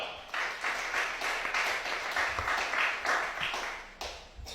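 A church congregation breaks into applause, with loud, dense clapping sustained across several seconds in rolling surges that ease slightly toward the end, and a few low thumps underneath.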